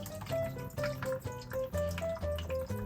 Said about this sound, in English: So I just wait until the water is done pouring